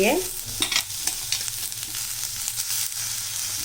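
Carrots and onions sauté in a hot pan with a steady close sizzle, broken by a few scraping stirs of a spatula, with no voices.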